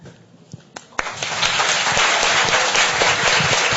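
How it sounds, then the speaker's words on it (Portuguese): Audience applause fills a room at a panel discussion on travestis and transexuals in education, starting with a few scattered claps and swelling after a second into steady, dense clapping that holds to the end. "agradeço os aplausos de todos"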